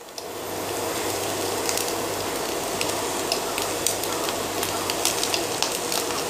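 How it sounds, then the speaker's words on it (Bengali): Cooked, cooled rice tipped into a pan of frying vegetables for mutton fried rice, giving a steady, loud broadband sizzle with faint crackles and a low hum beneath, continuous throughout with no talking. "আমি এখন ভাত দিয়ে দিচ্ছি।"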